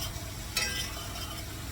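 Onion fries in a pan for beef and noodles, a soft steady sizzle with a brief stirring scrape partway through, quiet and close with no voices.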